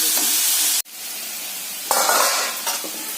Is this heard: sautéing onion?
yes